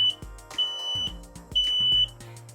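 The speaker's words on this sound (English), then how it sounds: "there's a test button on each of these smoke alarms" An X-Sense smoke alarm, set off with its test button, sounds piercing, steady high beeps in a regular repeating pattern, with low thumping underneath each cycle.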